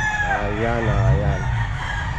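A rooster crows at an outdoor pet market, its long wavering call sounding close and clear over a steady murmur of crowd and market bustle.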